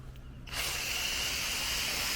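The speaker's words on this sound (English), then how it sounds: "what I mean when I say it's just not the same spray pattern" Foaming condenser coil cleaner bursts from an HVAC Guys Coil Cannon spray nozzle, a sudden steady hiss that starts after a brief pause and continues close and loud.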